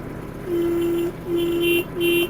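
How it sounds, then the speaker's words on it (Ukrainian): A Kubota KL-230 mini tractor horn honks three times in steady, evenly spaced blasts, each about half a second long, loud and close with a flat tone. "Гудок."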